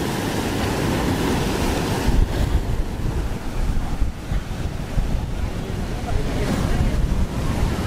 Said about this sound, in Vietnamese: Sóng lớn lắm luôn.